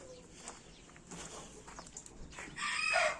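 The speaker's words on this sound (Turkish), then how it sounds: "Buralarda da mızlık horozlarımız var. Geziniyorlar." Chickens cluck and a rooster calls faintly amid farmyard noise, with a louder crowing burst at the end.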